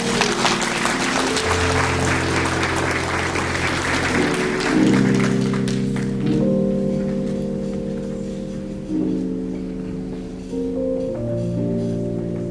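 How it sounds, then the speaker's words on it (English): An audience at the 2020 Les Martinique debutante ball applauds the debutantes' parents, clapping that fills the opening seconds before fading under sustained tonal music. "Please give them a round of applause."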